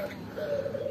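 Doves such as tekukur and perkutut cooing while set out in the sun, a soft low coo swelling in the second half of the clip over faint background noise.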